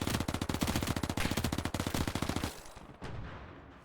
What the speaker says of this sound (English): Shots downrange.